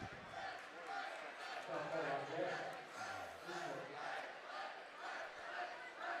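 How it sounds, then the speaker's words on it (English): Crowd noise at a high school boys basketball game, with fans shouting and cheering in rising and falling waves, moderately loud, mixed with voices and some court sounds. "And you can still hear the energy in this crowd, Joe."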